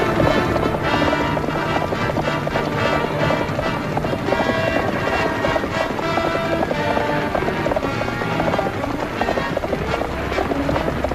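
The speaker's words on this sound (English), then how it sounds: "I'll get the horses, Annie." Horses galloping in a rapid, continuous clip-clop rhythm, loud and close, with rushing noise and music-like tones underneath.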